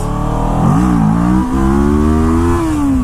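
A 2016 Kawasaki Ninja 650 revving hard in first gear for a wheelie, the engine note climbing steadily and then dropping off as the throttle closes, loud and close with no talking.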